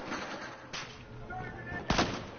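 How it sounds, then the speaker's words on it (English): Gunfire in the Battlefield video game: a few sharp shots burst out amid a busy battle bed, the loudest blast near the end, with voices talking over the action. "Oh shit, I was getting shot at."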